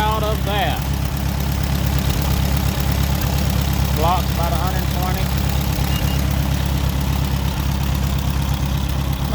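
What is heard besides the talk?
tractor engine idling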